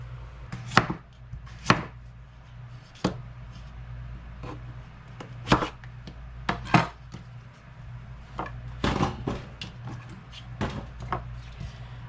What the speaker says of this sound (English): let's go ahead and cut up some potatoes